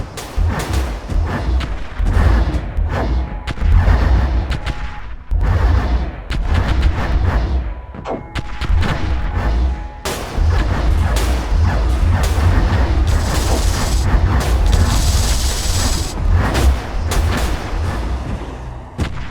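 Spaceship weapons fire at an enemy ship in the StarDrive space strategy game as loud, heavy repeated booms and bursts, broken by short gaps and then merging into a sustained barrage.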